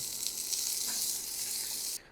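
Small fish fry in hot oil in a pan with a loud, steady, close sizzle that cuts off sharply near the end; no one talks.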